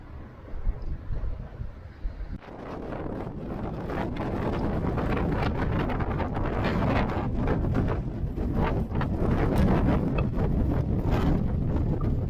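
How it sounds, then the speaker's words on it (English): Strong coastal wind with gusts to 72 mph roars and buffets the microphone on the road to Holy Island, Northumberland, building from gusty bursts into a loud, continuous rumbling blast. "Very windy."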